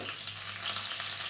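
Mustard seeds sizzle in hot oil, a dense, close, continuous frying hiss with faint crackle throughout and no voices.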